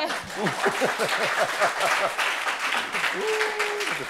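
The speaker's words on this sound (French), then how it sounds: "On applaudit pour lui" A crowd applauds steadily throughout, with voices talking and laughing over the clapping and a brief sustained vocal tone near the end.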